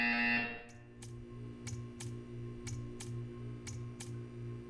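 A buzzer in the Portal 2 video game sounds as a steady, fairly loud drone with short evenly spaced ticks or clicks repeating roughly every half second above it, alone with no talk.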